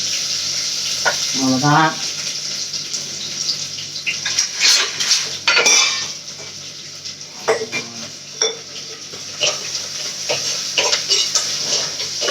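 Small onions and curry leaves frying in hot oil with mustard seeds and fenugreek in a South Indian kitchen, a steady close sizzle with stirring scrapes and faint clinks of a pan, a short spoken word early on.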